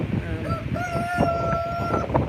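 A rooster crows once on a farm in rural South Dakota, a drawn-out call over a second long, near and fairly loud against a busy outdoor background.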